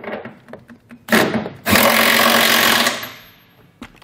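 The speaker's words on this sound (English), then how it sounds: "now we'll go ahead and tighten down our larger front bolt. That one's gonna utilize a" A power tool tightens a fifth wheel rail bolt with a 15/16 socket on a 2022 Chevrolet Silverado. A short whir is followed by a longer steady drive of about a second and a half that then fades out, close by.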